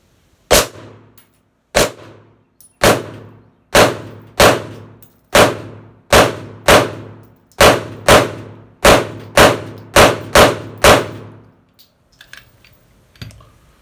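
A Girsan MC 9T pistol at a shooting range fires about fourteen sharp, loud shots at an uneven pace with short echoing tails, followed by faint handling clicks.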